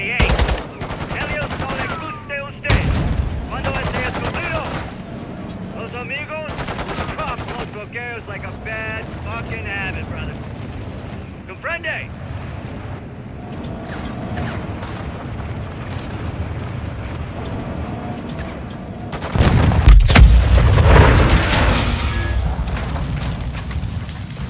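Machine-gun fire and heavy booms from tank explosions in the video game Modern Warfare 2 crackle in dense bursts throughout, with a louder blast near the end and someone talking over the fighting.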